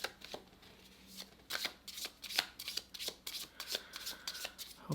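Tarot cards being shuffled close up, a quick series of riffling, slapping bursts with brief pauses between them, no voices.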